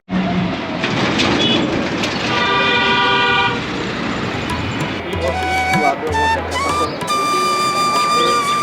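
A metro train rumbles through a station while chime-like tones and horn toots ring out over it, with busy background noise throughout.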